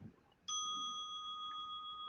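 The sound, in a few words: bell ringing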